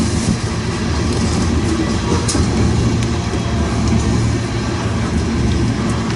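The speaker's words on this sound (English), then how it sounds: "I believe at the end of this particular coal drag is a 70 Mac" A long coal train rolls past at Ashland, Nebraska, with an SD70MAC locomotive at the rear, giving a loud continuous rumble and steady wheel clatter close by with no talk.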